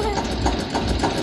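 A tractor engine idles steadily just after starting, a continuous low rumble with a faint regular pulsing throughout, fairly close.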